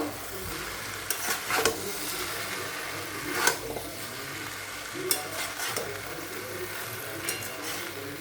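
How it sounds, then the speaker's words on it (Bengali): Soya chowmein fried with salt in a pan gives a constant sizzle, broken by periodic loud scraping stirs and clacks of a spatula against the metal. "পরিমাণ মতো লবণ দিয়ে এটাকে ভালো করে নাড়াচাড়া করে নেব"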